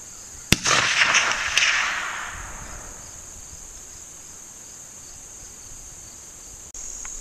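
A single sharp gunshot from a sporterized Remington US Model 1903 rifle firing a Lee 180 grain round nose cast bullet at a 250-yard target, followed by a fading roar of echo. A high steady insect-like hum runs throughout.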